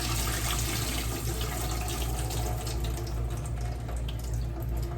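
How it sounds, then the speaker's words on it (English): Greens being rinsed under a running kitchen faucet, a steady, close rush of tap water filling and splashing in the sink throughout, with no talking. "please wash your greens out"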